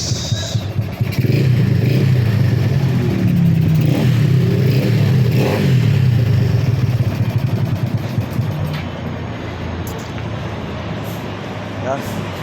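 A Yamaha Aerox scooter engine revs loudly and steadily nearby, a rough buzzing drone that holds for most of the stretch before easing off toward the end.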